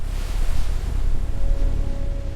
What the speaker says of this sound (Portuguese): A arca era sacudida pelas ondas, mas permanecia firme.